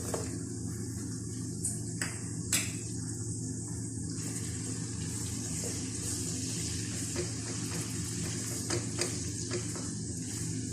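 Peeled garlic cloves frying in a pan until light brown, a steady close sizzle with occasional clinks and scrapes of stirring, no talk.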